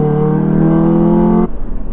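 An Audi RS3's five-cylinder engine revs loudly and close, a rich buzzing note held for about a second and a half before cutting off abruptly into a low idle burble.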